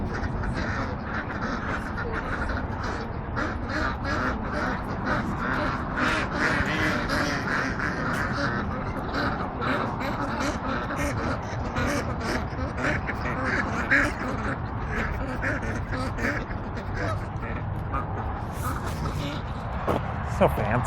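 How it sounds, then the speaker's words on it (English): Geese and ducks squabble nearby, a dense, continuous stretch of quacking and honking calls with flapping commotion, while people talk over the noise throughout. "the geese and the ducks are fighting and they're running towards me"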